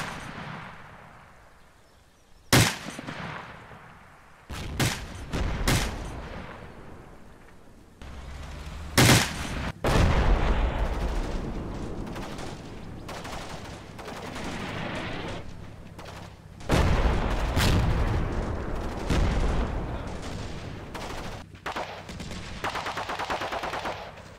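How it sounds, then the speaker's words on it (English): Machine-gun covering fire in a wargame, with sharp isolated gunshot cracks giving way to sustained rattling bursts, rising and falling in intensity over a moderately distant battlefield. "The infantry begin their advance, and the covering fire is intensified."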